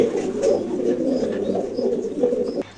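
Pigeons coo steadily in a pigeon loft, a close, continuous overlapping murmur of soft throaty calls with no talking, ending abruptly.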